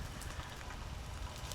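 Heavy pouring rain falls steadily on a rock face during a climb, a continuous faint hiss close around with no talk.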